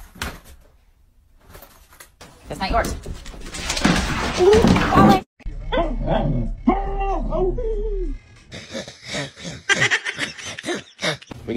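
A pet dog reacts to an April Fool's Day prank with yelps, whimpers and short barks, loud and close, mixed with people talking and laughing nearby.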